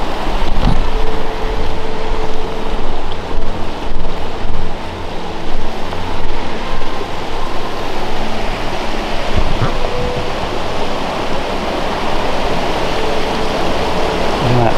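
Rainwater that fell on Pontfarcy in Normandy pouring into the river, a loud continuous rushing and splashing with a turbulent, broadband roar that holds steady throughout.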